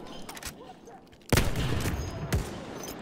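Machine gun fire in Battlefield 1, bursts of gunshots that grow into a loud close volley, then keep crackling with sharp reports over battlefield noise.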